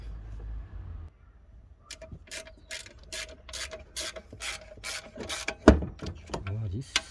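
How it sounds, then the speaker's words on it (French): Rapid, evenly spaced clicking of a ratchet with a 10 mm socket tightening bolts while fitting a Suzuki Splash clutch kit, close and clear after a brief quiet start, ending in a clunk and a few scraping clicks. "tu sers avec la clé 10."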